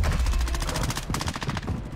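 Rapid gunfire from the video game Warzone 2 rattles off in a fast, loud automatic burst of closely spaced shots lasting the whole moment, with faint voices barely present underneath.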